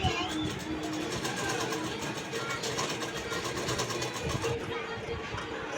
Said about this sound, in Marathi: याला पण नेकला असे गड्याच्या साईडने असे स्टिच टाकून घ्यायचे हळूहळू.